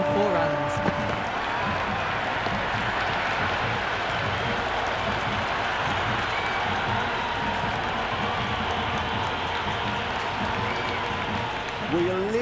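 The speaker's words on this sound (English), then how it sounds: "Will you listen to that crowd? They are loving this." A large stadium crowd cheers and claps in a continuous roar in the cricket video game Cricket 26, with a commentator's voice briefly over it at the start.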